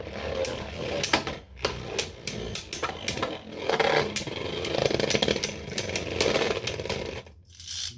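A Jet Wyvron Beyblade is launched and spins in battle, giving a dense, loud metallic whirring and grinding with repeated sharp clacks of impacts throughout, cutting out briefly near the end.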